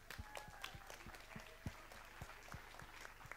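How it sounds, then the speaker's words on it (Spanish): An audience at a 2019 intercollegiate cultural show applauds a band, a steady wash of clapping from a sizeable crowd, heard at a distance and fairly quiet, with individual claps popping out of the mass. "¡Un aplauso!"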